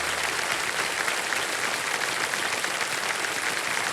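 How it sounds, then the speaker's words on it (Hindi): Studio audience on a televised Hindi quiz show applauding steadily, a dense, even wash of clapping that holds at a constant level throughout without voices. "तालियां बज जाएं इनके लिए"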